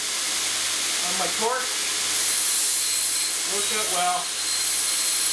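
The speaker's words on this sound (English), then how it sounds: "this little sander is my homemade blade sander. I use it for doing all my drill bits," A homemade blade sander for sharpening drill bits and tungsten electrodes runs in a workshop with a steady, hissing whir beneath a voice.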